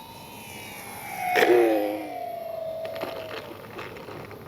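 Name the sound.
Avios Twin Otter RC model plane flying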